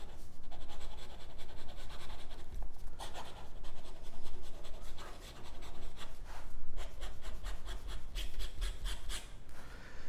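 Fountain pen with a Wörther Profil nib scratching rapidly across paper, a steady near stream of quick squeaky strokes and scrapes with no talk.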